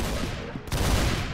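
Shotgun gunfire in the Roblox video game, a dense burst of blasts with a sharp report midway, loud and close throughout the short stretch.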